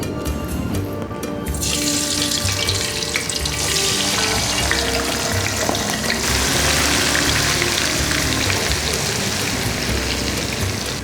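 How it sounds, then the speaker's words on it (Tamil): Boiled, peeled baby potatoes deep frying in hot oil, a loud, dense, continuous bubbling sizzle like pouring rain, steady for the whole stretch with no talking. "இதை நம்ம டீப் ஃப்ரை பண்ணி எடுக்கலாம் எண்ணெய் இப்போ சூடாக இருக்குது"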